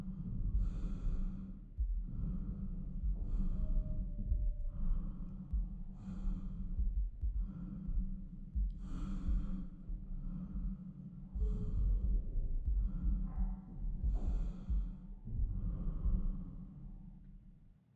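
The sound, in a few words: character's own breathing in space, from the video game Routine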